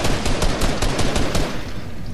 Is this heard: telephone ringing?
no